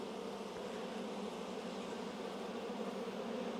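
Honeybees humming steadily at an opened hive during loquat-honey season: a dense, continuous buzz close by, even in loudness throughout, with no talk.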